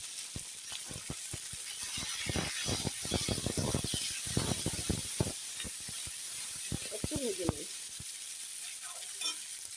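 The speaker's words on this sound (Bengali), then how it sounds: "পেঁয়াজগুলো এখন ভালো করে আমি লাল লাল করে ভেজে নেব তেলের মধ্যে নাড়াচাড়া করে" Sliced onions sizzle in hot oil with bay leaf and garlic, stirred for a Bengali chicken ghugni, giving a steady crackle broken by frequent scraping stir strokes and spatula clicks, close and fairly quiet.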